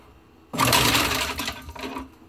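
A kitchen sink garbage disposal switched back on after its reset switch is pressed: a sudden loud mechanical whirring roar that runs about a second and a half, then tapers off.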